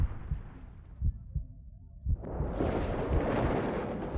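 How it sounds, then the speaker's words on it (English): An explosion in the visual novel game Chaos;Head Noah: low, heavy thuds beat like a pulse, then a deep roaring blast rises and rumbles on loudly to the end, with no voices. "Along with the ear-splitting sound of an explosion, I was slammed with an even greater impact than before"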